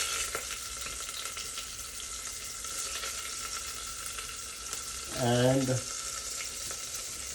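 Cloves, curry leaves and green peppers crackle steadily in hot oil in an Instant Pot, with a brief burst of voice partway through.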